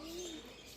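Birds call in the open air at Ramoji Film City, a short cooing call with a faint chirp, fairly close and heard alone without talk.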